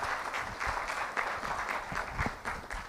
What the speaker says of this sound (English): Big round of applause for Commander Saini.